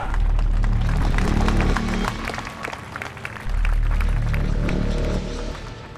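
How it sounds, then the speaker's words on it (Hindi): Applause from a crowd greeting the start of a wrestling bout, a dense steady wash of clapping that swells loud, dips briefly in the middle, then surges back. "और बिना किसी देरी से अब हम कुश्ती शुरू करवाने जा रहे हैं। तालियां।"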